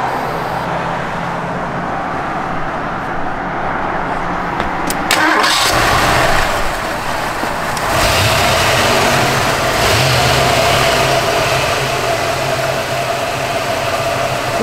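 A 1984 Ford Mustang GT hatchback engine cranks and catches, then settles into a loud, close idle with a couple of rising revs and dips.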